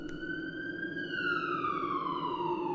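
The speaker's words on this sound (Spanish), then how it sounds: "Llegó la ambulancia para llevarla al hospital" An ambulance siren wails in a steady, loud, sustained tone that slowly falls in pitch, heard alone and close.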